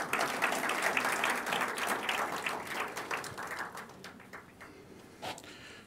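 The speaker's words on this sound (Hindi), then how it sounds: "अब ताली बजाओ।" An audience at an MBA orientation-day speech breaks into applause, a dense loud burst of clapping that gradually thins and fades over several seconds, ending in a few scattered claps.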